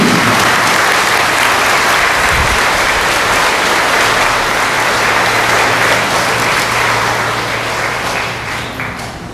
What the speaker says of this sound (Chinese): 掌声鼓励你。